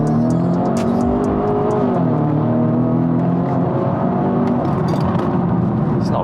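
A Stage 2 tuned 400 bhp BMW F30 330e accelerates hard after a downshift to second on a country road, its engine note rising steadily in pitch, loud and close inside the cabin.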